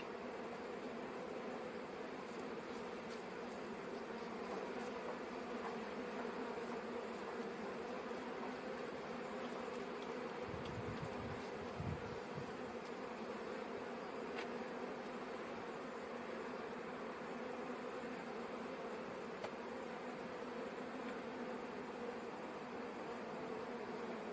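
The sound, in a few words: bees buzzing around hives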